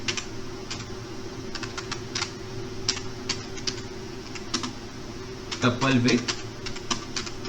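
Rapid, steady clatter of keys on a computer keyboard during a Python programming lesson, close and continuous, while someone speaks Hindi over the tapping.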